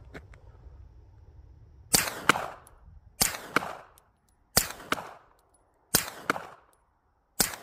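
Five suppressed gunshots, each a sharp crack with a quick echo, evenly spaced about a second and a half apart, loud and close against a quiet outdoor background.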